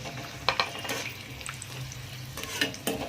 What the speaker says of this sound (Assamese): এতিয়া কিচমিচকেইটা দি দিম আৰু কিচমিচকেইটা এতিয়া তেলত ভাজি দিলে ধুনীয়াকৈ ফুলি আহিব।